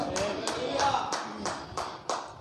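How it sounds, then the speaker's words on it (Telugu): A congregation claps hands in a steady, evenly spaced rhythm of sharp collective claps, moderately loud and filling the room, with no talking over it. "చప్పట్లు గట్టిగా కొట్టండి"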